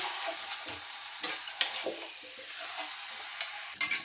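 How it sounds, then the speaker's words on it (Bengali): Chicken being stir-fried in a pan for a Bengali kosha, a steady close sizzle with scraping stirs and occasional clacks of the spoon against the pan, no talk. "এবারে আমি চিকেনটাকে খুব সুন্দর করে কষাবো।"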